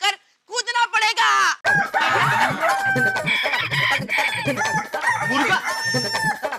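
A person imitates a rooster crowing as a forfeit in a party game, a voiced cock-a-doodle-doo call near the start, followed by lively chatter and rhythmic background music.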